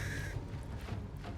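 A crow caws once, loud and close, in the fantasy role-playing game Baldur's Gate 3, a short harsh call over a low game-world rumble.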